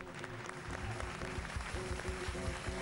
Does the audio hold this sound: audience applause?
yes